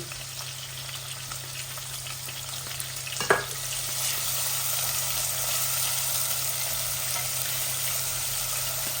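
Garlic and cumin seeds fry in a pan with red onion, making an even, close crackling sizzle throughout, with one sharp metallic clank near the middle.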